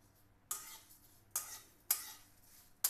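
A spoon stirs sevai kheer with bay leaf and coconut in a pot, giving four quiet, sharp scraping strokes at irregular intervals with near silence between them.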